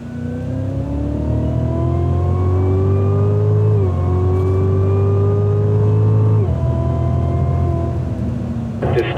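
A 2016 Cadillac CTS-V accelerates hard down a racetrack straight, its engine note climbing steadily through two gear changes, loud and close from inside the car.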